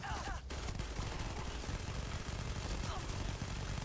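Rapid gunfire in the sci-fi video game Starfield, dense bursts of shots rattling steadily over a busy game soundscape at moderate level.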